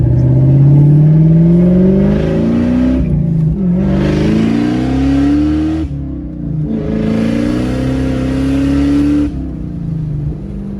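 A Ford Mustang Bullitt with a new Magnapack exhaust revs hard in three loud, close bursts, each rising in pitch with a raspy, droning exhaust note, separated by brief drops as the engine falls back.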